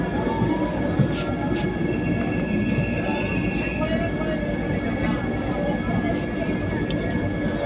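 The Puri–Howrah Vande Bharat Express rumbles steadily on departure from Puri railway station, with a constant low roar and hum from inside the carriage and faint higher rattles.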